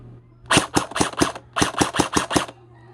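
A TG ARP9 V3 airsoft gun running on an 11.1 V LiPo battery fires two quick runs of sharp, close shots, about five or six evenly spaced cracks in each, and no voices are heard.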